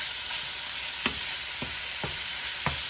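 Bok choy fries with ground pork in a pan under a steady sizzle, while a utensil scrapes through it in four separate strokes spaced across the clip.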